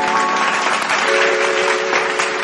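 Audience applause welcoming a singer onto a stage at a music program, dense and steady clapping held at an even loud level throughout, with no voices over it.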